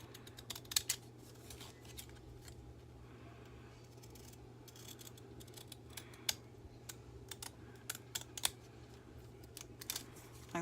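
Scissors that tend to stick snip around a paper tag for a journal, giving sparse, quiet, irregular cuts and clicks over a steady low hum, with no talking.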